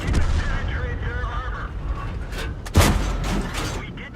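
Tank cannon fire in the World of Tanks video game, one sharp loud blast standing out against a busy backdrop of engine rumble and battle noise, followed by a few fainter thuds.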